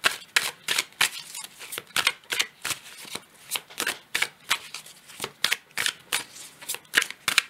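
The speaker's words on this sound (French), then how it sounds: "je prends le tarot hermétique" A Hermetic tarot card deck is shuffled up close, its riffling bursts repeating roughly twice a second in a steady rhythm with no voices.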